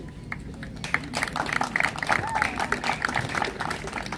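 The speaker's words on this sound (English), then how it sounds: "I do now round of applause for Dr. Watson." Applause for a speaker at a team ceremony, a dense patter of many hands clapping steadily at moderate loudness throughout, with some crowd murmur underneath.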